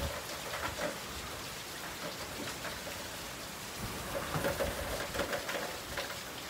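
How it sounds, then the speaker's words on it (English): Heavy rain pours steadily in a dense wash of drops against surfaces during a thunderstorm. The rain is moderately near and continuous, with no clear thunderclap and no one speaking. "Sure is raining hard."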